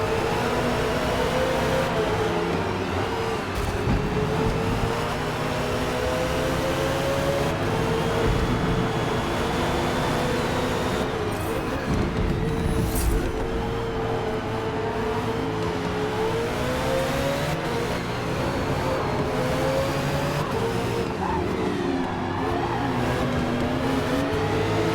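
GT race cars in a Forza league race roar continuously as a pack, engines rising and falling through gear shifts with occasional cars passing close, loud and steady throughout.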